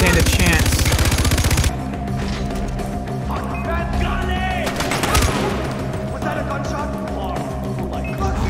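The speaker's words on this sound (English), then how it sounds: "Was that a gunshot?" Rapid gunfire bursts in Far Cry 4 open loudly for under two seconds, then give way to a dense game soundscape with music-like tones and scattered effects.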